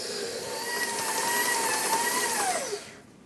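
A food processor or blender runs steadily, mixing gluten-free lemon tart dough with very cold butter into a ball, a loud continuous motor whine that holds level and then winds down and stops near the end.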